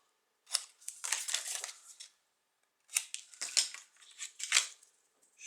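Scissors snip along the edges of paper pages for a handmade baby album, two close bursts of crisp rustling cuts separated by a short pause.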